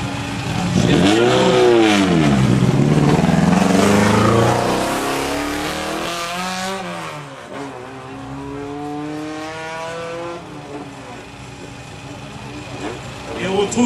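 A historic 1300 rally car with a 1296 cc engine, raced in 1970s rallies, climbs a hill at a historic hillclimb, its engine loud and close, revving up through gears with rising and falling pitch, then fading slightly as another rev builds; a voice speaks over it.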